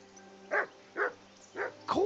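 In Kingdom Come: Deliverance II a dog gives four barks, spaced evenly, that sound near and fairly loud. A faint steady hum runs under them and no one speaks.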